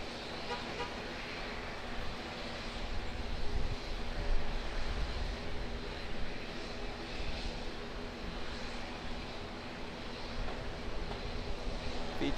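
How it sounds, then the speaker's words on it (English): Fiji Airways Airbus A330 jet at Auckland Airport, a faint, distant steady engine drone with a rising and falling roar, mixed with light road traffic in the background. "Fiji Airways A330"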